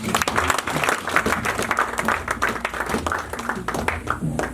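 Church congregation applauding to acclaim the Lord during a sermon, steady dense clapping from a crowd filling the space, with some voices mixed in underneath.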